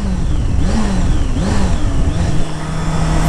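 Carbureted Honda Hornet motorcycle engine revving up and down in repeated rising and falling pulls, loud and close, continuous with no talk.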